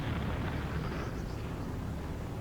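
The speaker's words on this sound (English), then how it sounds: "Watch out, bomber! There's a bomb." A bomb dropped by a bomber explodes in the Project Nomads video game, producing a sustained loud, rumbling roar that holds steady without pause or speech.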